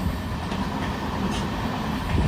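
Kacheguda to Mangaluru Central weekly superfast express running along the Kerala coast, a steady close rumble of wheels and carriage with faint rhythmic clatter, no voices.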